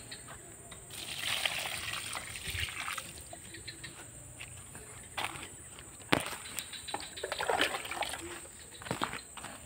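Water splashes and trickles onto the leaves and soil of a young water apple tree in uneven bursts, with sloshing and dripping close by over a quiet outdoor background.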